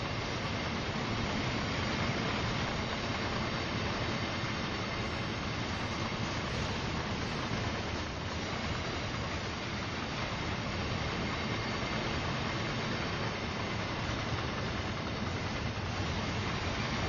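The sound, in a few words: train engine running in a train simulator video game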